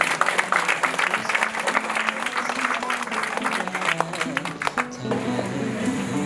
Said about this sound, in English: Let us give a big hand of applause to all the